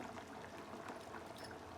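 Water is poured into a pot of cooked tomato and boiled dal for tomato rasam, a soft, faint, continuous pouring splash with no talking.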